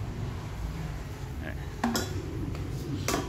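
The non-stick pot of a touch-button air fryer is handled during cleaning, giving scattered light clinks and knocks against a quiet background while a person talks.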